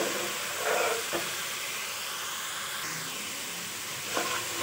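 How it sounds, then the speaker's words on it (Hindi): Food roasting in a cooking pot for a home feast, a soft steady hiss of steam and low sizzle with a couple of brief scraping stirs, faint and continuous with no voices. "अब हम इनकी भुनाई करेंगे।"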